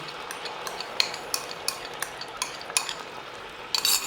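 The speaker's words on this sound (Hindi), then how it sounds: "ये दही हम इसमें डाल देते हैं।" About 200 grams of yogurt goes into a pot to start a chicken qorma gravy, heard as a soft wet stir with scattered metal spoon scrapes and clinks against the pot, close, with a louder clatter near the end.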